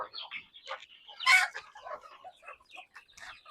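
Native country chickens cluck in a small farm room at feeding time, with scattered close clucks and one sharper squawk in the middle.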